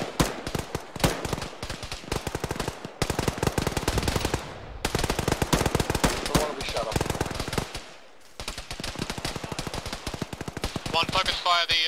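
Rapid automatic gunfire fills a combat scene in the Arma ShackTac video game, with dense bursts of close, loud shots broken by brief pauses and one longer lull.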